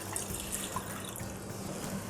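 A glass of water poured into a pan for coriander tea, a soft, steady trickle and splash at low level with no talk.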